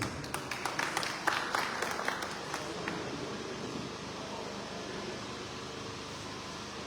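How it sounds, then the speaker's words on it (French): Applause at an inauguration ceremony for tax sub-centres in Mitsamiouli, Comoros: scattered claps for a few seconds that quickly thin out and fade into a steady room hiss, fairly faint. "Veuillez l'applaudir chaleureusement."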